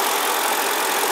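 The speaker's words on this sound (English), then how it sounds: "It's the motor running." A 1999 Mercedes-Benz E430 engine runs steadily nearby, a constant even hum with no revving over the short stretch.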